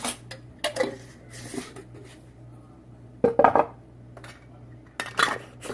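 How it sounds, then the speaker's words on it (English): A metal teaspoon clinks against a jar while Ceylon cinnamon is added to overnight oats, giving a few close, bright taps and scrapes in scattered bursts with quiet gaps between. "I'm going to add 1/2 teaspoon of Ceylon cinnamon"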